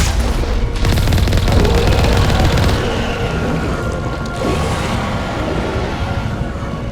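Dense, sustained barrage of gunfire and explosive booms in a Mass Effect combat scene with Alliance soldiers, loud and continuous across the whole stretch without letup.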